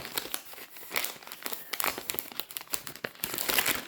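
A package is opened by hand, with close, crisp crinkling and rustling of plastic wrapping in irregular bursts and no talk.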